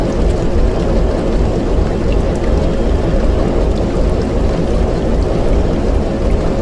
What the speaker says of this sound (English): Between the rain and the train, this is very loud